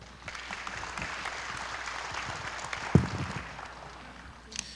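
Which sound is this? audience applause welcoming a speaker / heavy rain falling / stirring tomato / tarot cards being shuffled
audience applause welcoming a speaker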